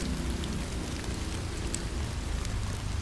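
Steady rain falls as a dense, continuous patter with a low rumbling undertone, even and moderately loud throughout.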